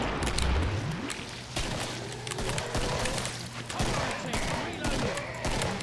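Pistol gunfire in a video game, sharp shots going off at irregular intervals throughout, some in quick bursts, mixed with game noise, a low hum and voices talking underneath.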